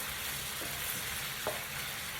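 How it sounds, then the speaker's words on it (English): Chicken, broccoli and smoked sausage sauté in a pan with a dense, even sizzle that continues throughout, with no voices. "So what I'm doing is I'm going to keep sauteing this."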